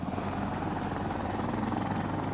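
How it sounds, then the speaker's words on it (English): Helicopter rotor chopping from a combat video game, a steady thrumming drone with a regular pulsing beat that holds loud and continuous throughout the short stretch, with no voices over it. "Get that chopper, let's get it."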